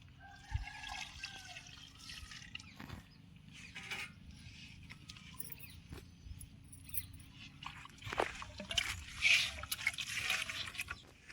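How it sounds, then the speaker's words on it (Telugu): Water trickles and splashes onto chicken in a clay pot for pot biryani in short pours, with clinks and handling noises in between. "కొన్ని నీళ్ళు పోసుకోవాలి చికెన్లో ఇట్లా పోసుకుంటే బిర్యానీకి మంచిగా ఉడుకుతుంది చికెన్"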